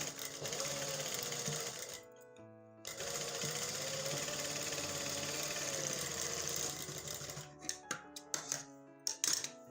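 Sewing machine stitching trousers, a fast continuous mechanical whir with a brief pause, then a run of short stop-start bursts at the end.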